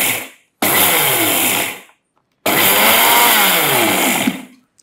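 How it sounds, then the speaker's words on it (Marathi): A mixer grinder pulses dried rice into coarse rava in two loud whirring bursts, each about a second or two long, separated by a short silence. "मिक्सरला फक्त पल्स करून करून रवा त्याचा काढून घ्यायचा"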